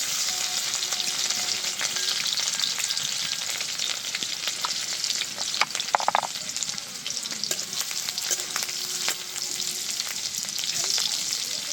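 Chopped garlic and green chillies crackle and sizzle in hot oil in a wok, a dense steady frying hiss running throughout, with occasional sharper pops and a brief stir around the middle.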